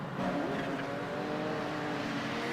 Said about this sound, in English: It's the Nissans heading through turn 4.